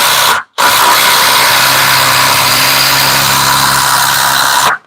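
A cordless impact driver drives a screw in a long loud continuous run, with a brief pause near the start and then sustained hammering whir until it cuts off, very close.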